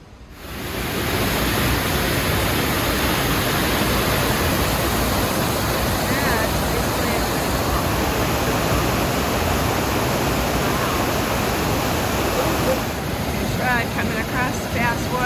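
A waterfall and a fast-flowing river on a hike in Mount Rainier National Park, heard as a dense, steady roar of rushing water that fills the whole stretch, loud and close, with no talking.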